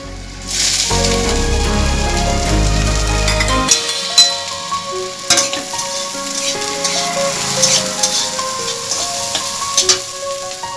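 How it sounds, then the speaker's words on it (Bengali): Corn kernels drop into hot oil in a home kitchen for capsicum corn malai masala, setting off a loud, dense sizzle with a low rumble at first that settles into steady frying crackle and occasional clinks of stirring. "এরপরে এই তেলের মধ্যে দিয়ে দিচ্ছি ভুট্টা বা কর"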